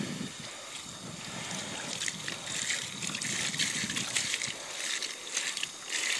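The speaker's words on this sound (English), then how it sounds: "So I'm going to just give it a good stir again." A hand stirs play sand through aquarium water, giving a continuous close swishing and sloshing with gritty rustle and splashing.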